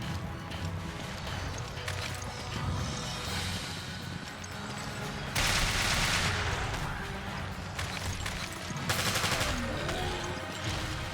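Heavy magnum shots fired in the video game Resident Evil Revelations, a few loud booming blasts standing out over dense, busy game sound and music without any voices.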